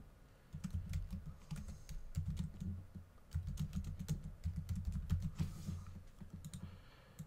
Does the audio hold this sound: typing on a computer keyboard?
yes